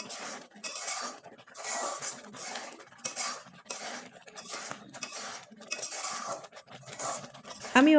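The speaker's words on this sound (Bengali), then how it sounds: "এখন নেড়েচেড়ে একবারে শুকনো করে তৈরি করে নেব।" A utensil stirs mung dal in a pan until it dries, scraping against the metal in a steady back-and-forth rhythm of repeated strokes, close and clear, with no talking.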